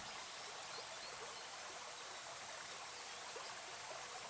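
A river flows steadily over rocks in a quiet outdoor setting, a faint, even rush and trickle of water with no voices.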